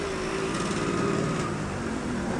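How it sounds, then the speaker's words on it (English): A KTM 390 motorcycle engine runs at a steady, even drone with a gruff, tractor-like buzz, holding close and constant throughout. "I thought KTM 390s are diesel engines."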